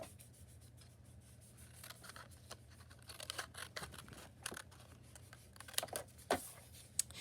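Scissors snip off a paper scrap from a pyramid paper craft, quiet close crisp cuts and rustling paper in a hushed room, with a few sharper clicks near the end.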